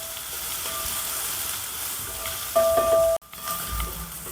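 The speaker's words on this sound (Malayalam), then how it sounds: "സവാള പകുതി വഴറ്റിയതേ ഉള്ളു കേട്ടോ" Sliced onions sauté in a pan for a spicy chicken dish with a close, continuous sizzle and frying crackle. A brief clatter comes near the end, with no talk.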